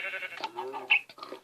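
A Minecraft sheep in a pen bleats a few wavering times in quick succession, close and clear.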